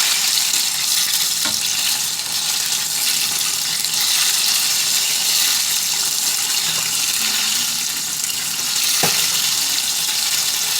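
Peach cobbler rolls fry in a pan with a steady, bright sizzle that runs throughout at an even level, broken by a couple of faint clicks, with no talking.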